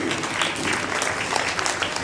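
Steady applause from an audience at a school award and result-day function as report cards and trophies are handed out, a dense, even wash of clapping throughout.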